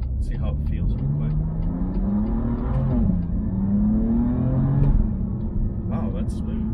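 A 2019 BMW M2 Competition in M1 mode accelerates, its engine rising in pitch with a smooth dual-clutch gear change midway, heard at moderate level from inside the cabin with a voice speaking over it.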